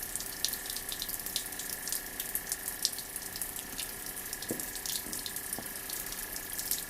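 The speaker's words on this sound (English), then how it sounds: "the water will actually go all over the place" Water spraying and splattering as a finger is pushed into a falling beam of water from a tap, a steady close hiss with a few brief louder splashes, no talking.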